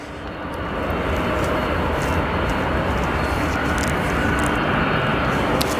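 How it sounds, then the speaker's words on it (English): An ABX Air Boeing 767 departs O'Hare airport, its jet engines producing a loud, steady roar that swells in the first second and then holds strong and unbroken. "ABX Air, Boeing 767 departing to Nottingham"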